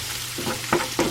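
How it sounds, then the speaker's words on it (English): Spices stirred into browned ground meat in a skillet, with two or three brief scraping strokes over a steady low sizzle, close and fairly loud, no voices. "let's go ahead and get all these spices stirred around."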